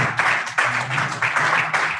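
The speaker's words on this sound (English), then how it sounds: "Please a round of applause for her." An audience applauds at a book launch, a dense, steady patter of many hands clapping at moderate distance, sustained for a couple of seconds with slight swells.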